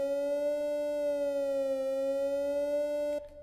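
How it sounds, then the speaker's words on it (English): A siren tone made on the 3x Osc synthesizer in FL Studio holds steady and clear with a slight wavering pitch, loud and electronic, cutting off abruptly near the end. "that's a siren."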